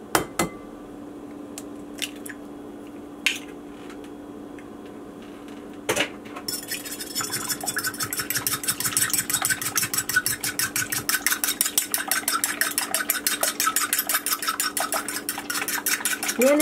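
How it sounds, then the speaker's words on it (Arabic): An egg being whisked in a bowl, starting with a few scattered clinks and taps, then settling after about six seconds into fast, continuous rhythmic beating that stays close and fairly loud to the end. "اول ما ابدي اخفق البيض خفق جيد"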